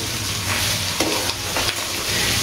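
Finely chopped carrot strips fry loudly in a pan for fried rice, with a dense, continuous hiss and a few sharp scrapes of stirring, close up and without speech.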